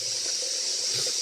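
Water runs from a tap in a steady, hissing stream, close by and fairly loud, with no voices.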